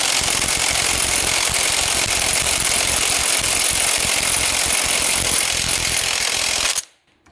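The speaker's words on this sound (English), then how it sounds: "take this impact, and it takes a little bit to get that crush sleeve to crush" An impact wrench hammers continuously on a truck's crush sleeve nut, a loud, dense, rapid rattling burst lasting several seconds before stopping abruptly.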